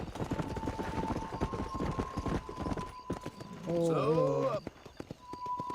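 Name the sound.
horse galloping in Red Dead Redemption video game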